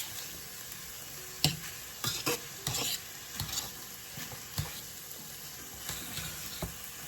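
Seasonings cooking with saltfish in a pan for Jamaican cabbage and saltfish, a low steady sizzle broken by a few spoon clinks and scrapes against the pan, quiet and close, no voices.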